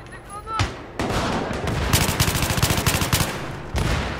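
Rapid gunfire in the Battlefield 3 video game, loud, close bursts of automatic fire that become a steady rattling stream after a couple of single shots, with faint speech early on.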